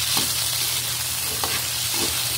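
Potatoes and carrots fry in a pan for turkey caldereta, giving a steady, close hiss of sizzling oil with a few soft stirring knocks and no voices.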